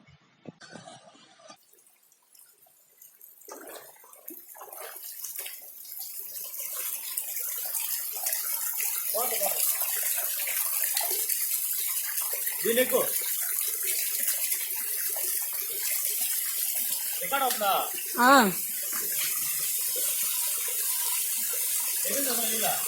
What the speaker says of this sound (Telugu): ఈ చిన్న రాయి కింద నుంచి వస్తున్నాయి అంతే నీళ్ళు ఒకే ఫోర్స్లో